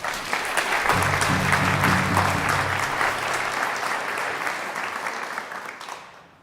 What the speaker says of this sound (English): So another final round of applause for Louis Whitehead